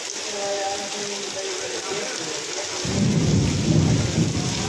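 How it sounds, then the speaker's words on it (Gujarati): Heavy rain pours down in Rajkot with thunder rumbling through it, a steady wash of rainfall that swells louder partway through. "જુઓ તમે વરસાદ અમારા રાજકોટમાં ફૂલ વરસાદ છે અત્યારે."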